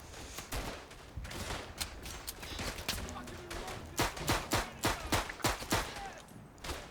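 Pop gun fire in the Verdun World War I shooter, a run of sharp irregular shots growing louder and denser toward the end, heard beneath someone talking.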